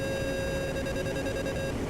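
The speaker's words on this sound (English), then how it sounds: "Sorry about the incessant beeping." Incessant warning tone in the A-10A cockpit of DCS World, a steady, unbroken electronic beep-tone holding one pitch throughout, sitting over a low cockpit rumble.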